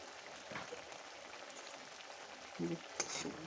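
Fish curry being stirred in a pan gives a faint, low sizzle with soft spoon scrapes and a couple of brief clinks near the end, quiet and without speech.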